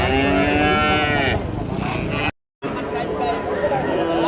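Cattle at a cattle market in Vaniyambadi, Tirupattur district, low-voiced moos sounding close and loud, one long call then more lowing after a brief gap, with market chatter faintly behind.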